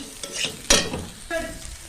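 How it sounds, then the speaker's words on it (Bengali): Potatoes fried in a pan are stirred, with a sharp scrape and clatter midway and a soft sizzle underneath, heard close with no talking. "দেখো বন্ধুরা, আলুটা ভাজা হয়ে এসেছে"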